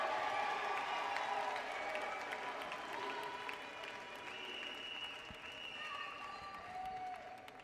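A crowd at a UCLA student-athlete graduation celebration claps together in the A-clap, sustained, fairly faint applause with sharp individual claps standing out across the whole stretch.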